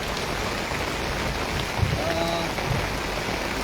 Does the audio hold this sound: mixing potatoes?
no